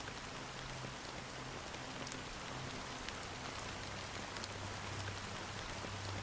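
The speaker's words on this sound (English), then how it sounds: "How long has this rain been going on for?" Rain falls steadily in the game Honkai Star Rail as a dense, even hiss with scattered tiny drop taps, while a low hum drifts underneath and no one speaks.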